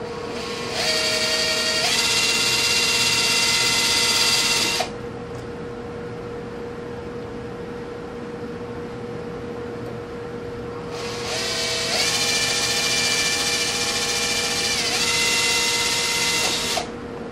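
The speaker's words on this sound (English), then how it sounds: "then you can drill on your outside marks" Two bursts of a high, whining power drill drilling holes for mounting ROV thrusters, each running several seconds, separated by a stretch of low steady hum; close and fairly loud.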